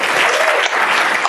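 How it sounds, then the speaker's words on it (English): Audience at a talk applauding, a brief burst of dense clapping from a room full of people, loud and even throughout. "Give Todd a hand clap."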